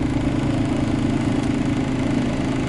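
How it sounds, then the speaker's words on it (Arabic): A car engine idles at steady, unchanging RPM, a continuous low mechanical hum close by with no revving, while the brake pedal is checked for a sinking brake master cylinder fault. "تسمع صوت المحرك كما هو، الار بي ام ما يتأثرش، يقعد عادي"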